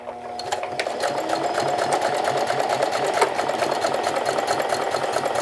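A sewing machine runs steadily while stitching and back tacking a denim jeans hem, a continuous fast mechanical whir with rapid needle rhythm, fairly loud and close, no talk.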